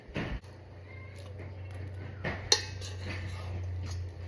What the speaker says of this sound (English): I'm just gonna finish spreading this butter really quick.